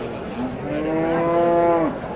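A cow lets out a single long, loud, drawn-out moo close by, rising and holding steady before tapering off, with no talk over it.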